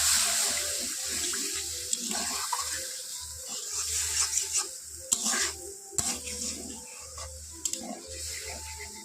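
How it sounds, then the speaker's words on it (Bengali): Water from rinsing a grinding stone is splashed into a pan of chicken masala frying in oil, hissing and sizzling amid stirring scrapes and a few sharp clinks of utensils. "অল্প পরিমাণ জল দিয়ে দিচ্ছি।"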